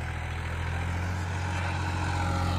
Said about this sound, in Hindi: पहले के हाई में ट्रैक्टर चल रहा है